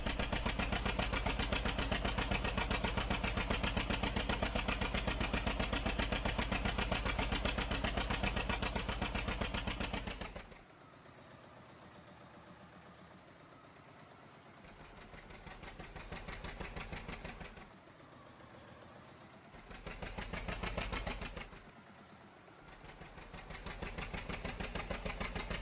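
A John Deere 730 diesel tractor engine in Farming Simulator, idling with a loud, steady chugging drone, then dropping to a quieter idle and rising again in a few short revving surges.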